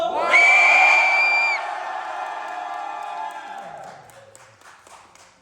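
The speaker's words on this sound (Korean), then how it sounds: "박수 환호 주세요!" A fan-meeting audience for a K-pop singer bursts into loud cheering, whoops and applause. The opening shout is strongest, and the crowd noise gradually dies down into scattered claps.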